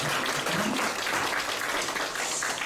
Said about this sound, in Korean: 두 가정을 해서 한번 박수 한번 하겠습니다